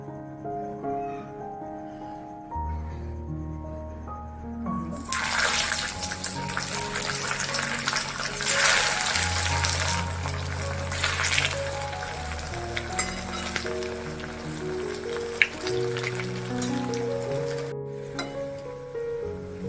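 Stuffed bitter gourds, tied with thread, fry in a pan of hot oil with a steady sizzle and bubbling that swells loudly partway through as a new piece goes in, under background music.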